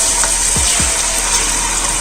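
Water is poured into a pan of golden fried onions for mutton korma, giving a brief steady hissing gush with a sizzle, and nobody talks.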